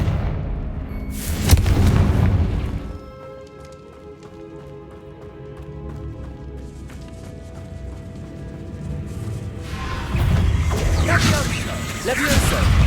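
A Confringo spell explosion in the Hogwarts Legacy video game: a loud, crashing burst early on and a rumbling tail, then quieter clatter with ringing tones, and a second heavy burst of noise near the end.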